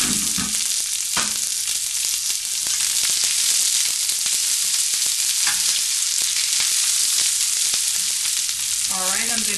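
Italian pork chops sear in smoking-hot oil, a loud continuous sizzle and crackle with sharp pops and occasional stirring clatter, close up and without talk.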